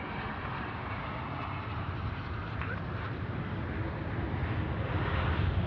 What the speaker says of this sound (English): Ladies and gents, Air Callan A330-900. Get a load of that.